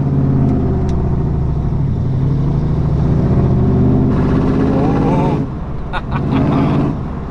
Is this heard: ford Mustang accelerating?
yes